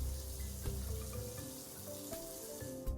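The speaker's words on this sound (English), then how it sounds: "I turned on the sink and let the water run to clear out the lines" Tap water runs steadily from a newly installed bathroom faucet into a sink, a continuous splashing hiss with faint tonal ringing underneath, close by.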